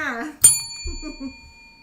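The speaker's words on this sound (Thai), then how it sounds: "กดกระดิ่งให้หนึ่งทีนะคะ" A bright notification bell ding rings once, clear and sustained, cutting in right after a voice and ringing out under her continued talking.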